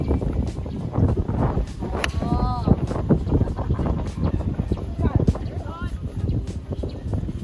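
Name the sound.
wind on golf course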